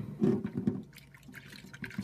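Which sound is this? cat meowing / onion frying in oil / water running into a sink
water running into a sink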